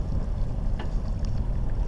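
A boat motors slowly at about three knots into a headwind through the Minimes harbour channel at La Rochelle, with a steady low rumble of engine and water wash mixed with wind buffeting, sailboats following behind.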